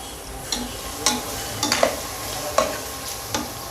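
Asafoetida and spices are sautéed in a pan over low heat, a soft steady sizzle broken by five or six sharp scraping stirs of a spatula, close and alone.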